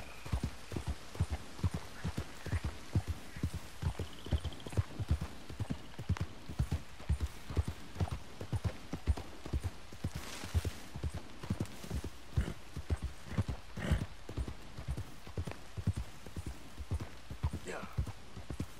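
Horse hooves clip-clopping at a steady walking rhythm in Red Dead Redemption 2 while a stolen horse is ridden into Van Horn, regular close thuds continuing throughout with a faint hum and occasional brief background sounds.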